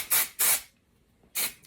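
Hair texturizing spray from an aerosol can, three short close hissing bursts with a brief gap between the second and third, no talking.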